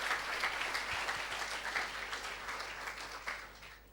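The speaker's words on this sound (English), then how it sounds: "Please give him a big round of applause." An audience applauds at the end of a university distinguished lecture, a steady wash of many hands clapping, fairly faint and distant, holding for the whole stretch before tapering slightly.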